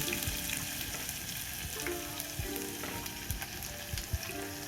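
Asafoetida and farm-fresh garlic sizzle in hot oil for a tempering, a dense, close frying crackle with scattered pops and light stirring scrapes throughout, and no voices.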